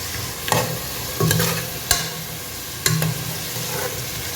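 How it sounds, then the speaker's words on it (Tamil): Green chillies fry in hot oil and ghee, a loud, close sizzle broken by several quick scraping bursts as a spoon stirs the pan. "பச்சை மிளகா போட்டுட்டேன், அது கொஞ்சம் ஃப்ரை ஆகட்டும் எண்ணெயிலே."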